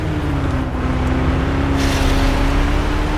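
A Harasser buggy from Planetside 2 drives with a loud, steady engine drone and rumbling road noise, a brief hiss breaking in partway through, constant and close throughout.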